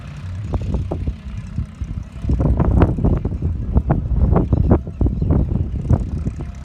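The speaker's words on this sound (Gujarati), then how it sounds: "બે ટ્રેક્ટરો" Two tractors work a field during sowing, their engines rumbling low and uneven with surging bursts, the drone partly buffeted by wind noise on the microphone.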